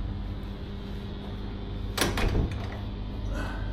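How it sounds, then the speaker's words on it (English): A door flying open inside a lodging after a flight from Manila to Cambodia, a brief close thud and rattle of the door against steady room hum, with no talk over it. "Whoa, that door just flew open."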